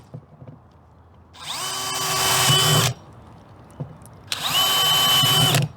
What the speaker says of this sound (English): I have to drill one container with 2 holes at the bottom